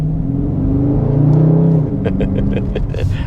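A 2022 Dodge Charger Scat Pack Daytona Hemi V8 engine rumbles and revs up close, the deep growl rising and surging, with a rapid burbling crackle toward the end.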